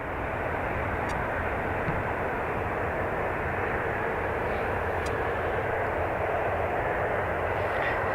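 A Ryanair jet taking off from runway 28 right at Dublin Airport produces a steady, loud, broad engine roar that stays constant the whole time.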